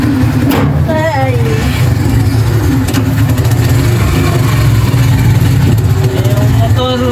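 A tricycle motorcycle engine idles close and loud with a steady low rumble, while people talk over it.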